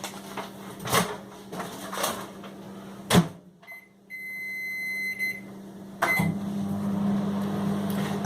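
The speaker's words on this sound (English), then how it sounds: "put them in the microwave for 2 minutes" Microwave oven heating rice pouches: door thumps and clicks, a run of beeps as buttons are pressed, then the oven starts with a steady low hum close by.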